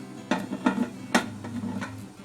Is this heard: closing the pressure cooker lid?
yes